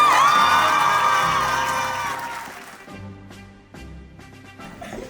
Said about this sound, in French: Veuillez applaudir Iris!